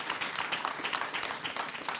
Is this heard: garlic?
no